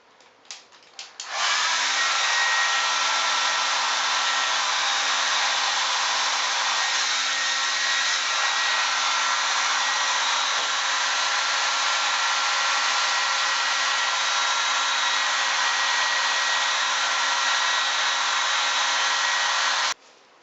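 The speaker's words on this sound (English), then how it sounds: "Get your dryer and dry it" Hair dryer on a cool setting blowing steadily and loudly for nearly twenty seconds after a few short clicks as it switches on, then cutting off at the end, drying glue on a wig.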